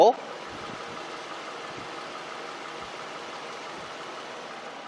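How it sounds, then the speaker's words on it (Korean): A Lexus car engine idles with a smooth, quiet, steady rumble after a brief sharp sound at the very start. "엔진 소리 한번 들려드릴게요"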